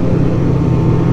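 A 1999 Polaris Indy Classic 500 touring snowmobile with a Fuji engine runs loud and close, a steady, droning engine note with no talking.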